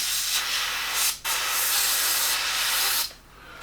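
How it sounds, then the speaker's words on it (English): Spray gun emptying leftover previous-colour paint from its cup, a loud steady hiss of atomized spray running nearly continuously with two brief pauses, close and alone. "So I'm just going to spray this out because I've still got some of the previous colour"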